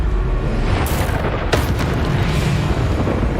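A Bombarda spell explosion in Hogwarts Legacy erupts with a loud, rumbling boom, followed by a sharp crack midway amid continuous heavy battle noise.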